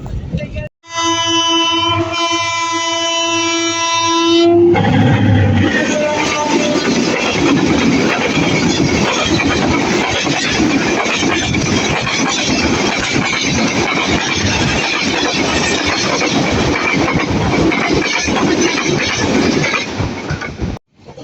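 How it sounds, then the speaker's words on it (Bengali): A train horn blares for a few seconds, then the Chattogram Mail train pulls out from platform one, rumbling and clattering steadily along the rails, loud and close, with voices faintly underneath. "অবশেষে এক নম্বর প্ল্যাটফর্ম থেকে চট্টগ্রাম মেল ট্রেনটি ছেড়ে যাবে"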